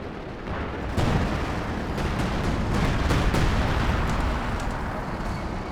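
Time-on-target artillery barrage in Company of Heroes 2, a dense continuous roar of overlapping shell blasts and rumbling impacts that swells after the first second and stays loud throughout, with no talk.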